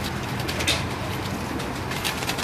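Pigeons of a prized red-eyed breed coo on a rooftop loft, a steady murmur of soft calls with a brief flutter near the start, close and fairly loud against outdoor background noise.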